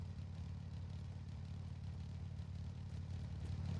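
A Tucker 48 car engine with a turbo idling in the driving game Drive Beyond Horizons, a low, steady, even rumble that holds throughout, fairly quiet and without talk.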